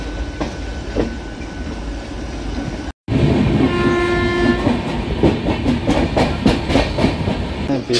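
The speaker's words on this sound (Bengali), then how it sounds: "ব্যস্ততম রেলওয়ে স্টেশন দেখেই বোঝা যায়, একের পর এক ট্রেন বেরোচ্ছে আর ঢুকছে।" Trains move through a busy railway station: a loud, steady rumble and rhythmic clatter of wheels, broken by a brief dropout, then a horn sounding over the rolling noise.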